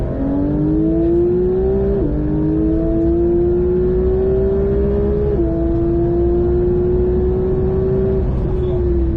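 A Porsche 911 (992) GT3 accelerates hard on the Mettet track, its engine note climbing steadily through two gear shifts, loud and close with a droning roar.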